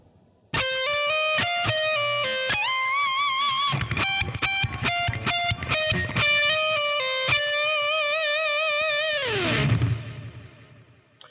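Distorted electric guitar plays a fast solo lick at slow practice speed, with sustained bright notes, quick pull-offs and shifting pitches, ending in a descending slide and fading ring.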